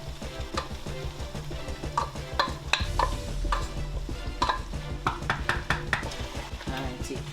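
Chopped garden eggs (eggplants) frying in heated oil for a Ghanaian stew: a constant sizzle under repeated scraping and clattering of a utensil stirring in the pan, close and fairly loud.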